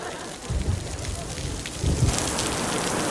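Steady rain falls outdoors as a constant dense hiss, with low rumbling swells that suggest distant thunder, continuous and fairly close throughout the short stretch.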